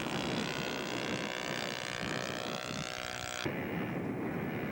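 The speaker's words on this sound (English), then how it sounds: "Flyby for Jeff." A scale model Chipmunk aircraft makes a flyby, its engine a steady, fairly loud buzzing drone with harmonic whine that holds throughout and cuts off sharply near the end.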